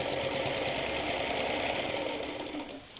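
A sewing machine backstitches thread back and forth in a continuous rapid mechanical whir that runs steadily, close and moderately loud, then tapers off at the very end.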